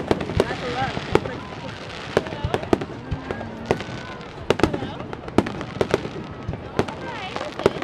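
Fireworks crackle and pop in scattered sharp bursts, some in quick clusters, set against a busy outdoor background with people talking and calling nearby.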